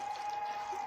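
Milk being poured into cooked corn for canjica, a brief steady pour with a faint liquid stream sound, alone and close.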